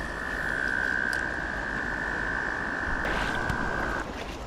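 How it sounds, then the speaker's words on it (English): Mating frogs along a creek keep up a steady, unbroken trilling chorus that stops abruptly near the end, with faint background rustling. "Frogs all through there."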